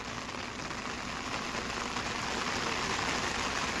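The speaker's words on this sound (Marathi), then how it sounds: "आता पण चालू आहे बघा पाऊस." Rain falls steadily over a parking area while someone stands under an umbrella, a dense, even hiss of drops that builds slightly louder toward the end.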